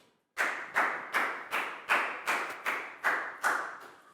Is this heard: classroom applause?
yes